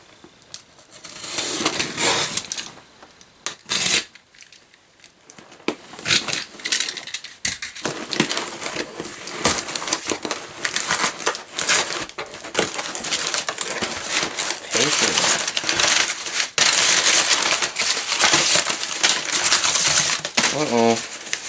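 A mailed cardboard package holding an elevator part being opened up close, with crinkling paper, tearing, rustling and handling clatter going on throughout, and brief talk from a person early on.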